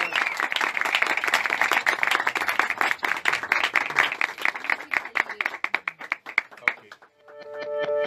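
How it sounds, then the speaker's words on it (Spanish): Colleagues at a radio station farewell give applause, a crowd clapping that thins into scattered individual claps before dying out, followed by a short musical tone. "Un fuerte aplauso,"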